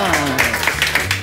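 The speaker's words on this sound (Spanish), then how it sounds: "¡Aplauso para este señor!" Audience on a variety television show claps briefly while a voice and background music carry over the top.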